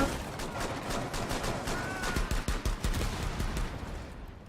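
Rapid bursts of loud gunfire from the video game Rainbow Six Siege, a fast rattling volley of shots with sharp cracks over a noisy background of in-game sound.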